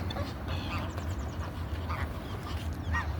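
Geese at Danson Park give nasal, quacking honks in scattered bursts, several calls close by over a low rumbling outdoor background.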